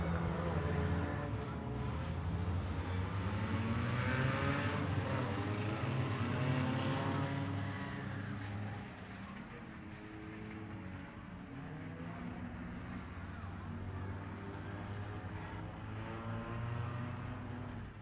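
Race cars at the Las Vegas Motor Speedway Bullring give a continuous loud engine roar, with pitch rising and falling as the pack passes, heard from a distance and easing slightly partway through.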